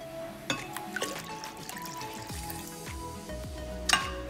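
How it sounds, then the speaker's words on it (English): A cup of water pours into a blender for homemade lemonade, splashing and trickling close by with a few small knocks and clinks, and no talking. "I'm going to pour this inside our blender too"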